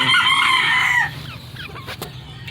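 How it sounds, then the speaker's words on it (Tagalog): A rooster crows loudly for about a second, then chickens cluck and chatter softly nearby. "Sa manok na naman ako nakapokus."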